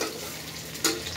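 Fish frying in a pan at close range, a steady dense sizzle with a brief louder crackle burst near the end; no voices.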